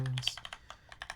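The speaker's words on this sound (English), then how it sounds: "FM60 PCB, alu plate, CJ switches with Sprit Slow Extreme 268 gram springs" Short burst of typing on an FM60 mechanical keyboard with an aluminium plate, CJ switches, heavy 268 g springs and GMK keycaps: a quick run of distinct clacky keystrokes, close and clear.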